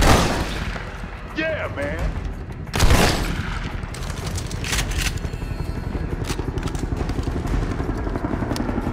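Bursts of gunfire from the video game Army of Two: The Devil's Cartel crackle in rapid volleys amid battle noise, with voices shouting over the action.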